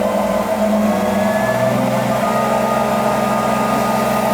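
A Laguna Revo 1524 wood lathe runs up toward its full 4,200 RPM, giving a loud, steady motor whine and hum whose pitch shifts early on, with no voices.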